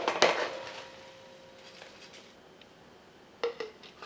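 Dry oats tumbling into blender containers, a short rattling pour at the start followed by a quieter lull and a second brief clatter near the end, heard alone with no talk.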